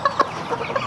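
A hen clucks in short, close bursts with a few sharper squawk-like notes over about a second, no talk alongside.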